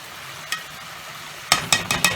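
Bread fries in hot grease, a steady soft sizzle with a brief pop, then a run of louder crackling bursts as the pieces are moved around the pan, with no talk.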